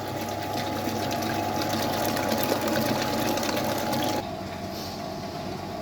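Electric mixer whipping cake batter at high speed for a Snickers cake, a steady close whirring drone that runs for about four seconds and then cuts to a quieter background hum, with no talk.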